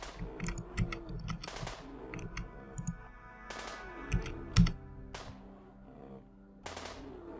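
Gunfire in RimWorld during a fight with a creature: bursts of small clicky shots in quick strings, some rapid like machine-gun fire, with louder individual cracks among them over a faint background hum.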